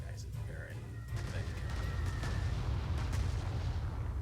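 Strategic bomber strikes in the WWII strategy game Panzer Corps 2 at Kharkov, a dense continuous rumble of distant blasts and artillery-like booms under a voice talking.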